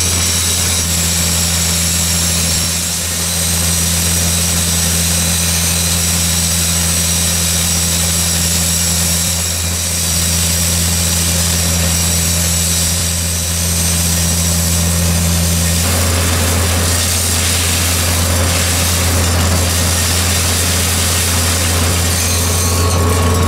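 The engine of a Wieland VacTrailer S-4 vacuum excavator holds a steady, loud drone at working RPM with a constant low hum and high whine, one tone dropping out partway through, and no speech.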